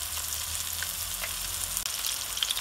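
Chicken rosti frying in oil gives off a steady, bright crackling sizzle, close and continuous, with a faint scrape as two spatulas turn the patties.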